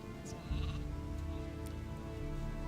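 Sheep bleating in Gothic 2 Night of the Raven, a couple of short bleats over a steady game ambience and background music in the city, moderately loud and close.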